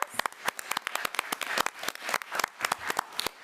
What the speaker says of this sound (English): Let's give Mia another round of applause.